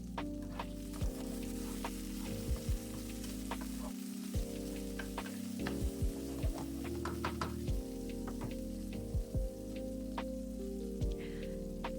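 Chopped red pepper dropped into hot oil in a pan, giving a steady crackling sizzle with small pops and stirring clinks, no voices.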